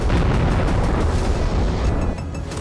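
Cluster bomb explosions in a Russian attack on Ukrainian positions, a loud, sustained rumbling blast with crackling bursts that fades slightly toward the end.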